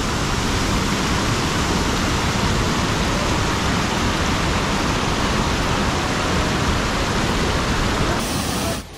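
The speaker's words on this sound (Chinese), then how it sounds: "这水很急耶。" Rushing water pours down Dream Valley waterfall in Nantou, a loud, dense, unbroken roar that fills the whole stretch before cutting off at the very end.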